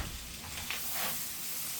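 Mixed vegetables frying in brown butter with ginger in a pan give off a steady, soft sizzle with a faint stirring rustle, close up with no talking.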